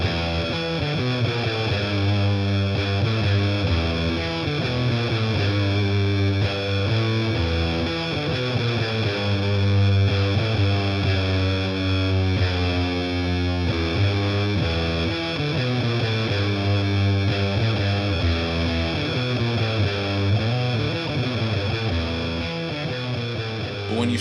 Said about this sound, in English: you can blend in some of those weird bit crushing noises